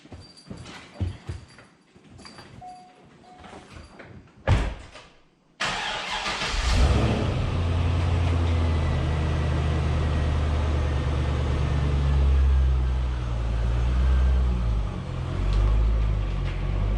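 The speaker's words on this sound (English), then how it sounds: "So I'm gonna pull the Corvette out of the garage" A Corvette starts up in a garage after a few clunks and footsteps, then settles into a loud, steady, deep idle and rumble that holds close by for the rest of the time, with no talk.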